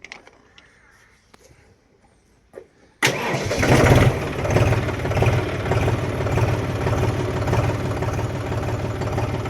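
A John Deere 5050D tractor engine cranks and catches after a quiet stretch, then settles into a loud, steady diesel rumble that carries on to the end.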